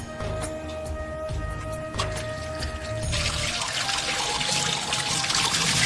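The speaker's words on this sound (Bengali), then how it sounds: "প্রথমে মাংসটাকে ভালো করে ধুয়ে নিয়ে রেখে দেবো তারপরে আলুগুলোকে ভালো করে ধুয়ে নেবো" Tap water runs and trickles steadily over goat meat and potatoes being washed in a kitchen sink, growing louder and splashier partway through.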